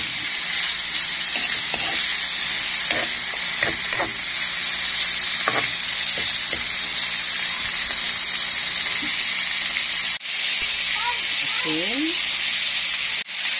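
Meat sizzles and fries steadily in a hot pan for adobong sitaw, a continuous close hiss with occasional stirring clatter and brief utensil scrapes, and no talk over it.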